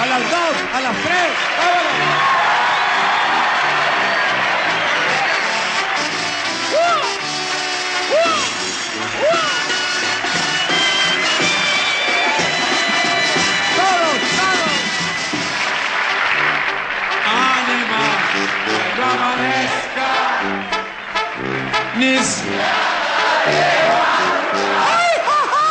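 A large crowd at a live Mexican ranchera concert shouts, whoops and applauds together in a loud, dense, continuous roar that lasts throughout.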